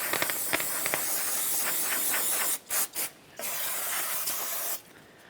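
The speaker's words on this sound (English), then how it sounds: "A quick blast with some parts cleaner." Parts cleaner is sprayed from an aerosol can into the wheel bearing bore of a 1994-1997 Honda Accord front hub, making a close, loud steady hiss. It runs for a few seconds, breaks into short bursts, then goes on hissing.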